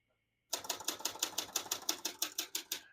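Rapid typing on a 1968 Olympia Splendid 66 portable typewriter: about fifteen crisp, evenly spaced key strikes follow a short silence, loud and close, with no talking.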